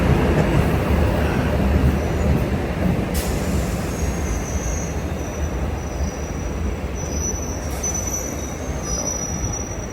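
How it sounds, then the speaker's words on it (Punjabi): A train rolls past close by, loud rumbling wheels on rails with high metallic squeals, gradually fading slightly over the stretch. "ਆਪਣੇ ਬੈਠੇ ਬੈਠੇ ਤੀਜੀ ਟ੍ਰੇਨ ਲੰਘ ਗਈ"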